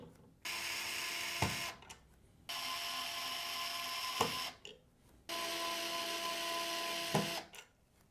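A small electric screwdriver whirs in three sustained bursts as it removes the screws holding the stock CPU cooler clips on a PC motherboard, with brief clicks and pauses between runs.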